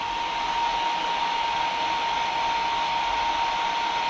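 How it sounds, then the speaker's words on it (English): A heat gun blows hot air to dry glue on handmade model trees, giving a steady, loud, unbroken whooshing hum with a faint tonal whine running through it and no talking. "don't put the heat gun too close that you melt the glue"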